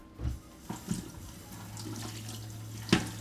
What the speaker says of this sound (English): I'm gonna give my board a quick rinse.